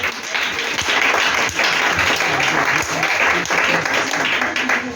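A church congregation at a Sunday evening service bursts into sustained, dense applause with cheering throughout, loud and continuous with brief dips.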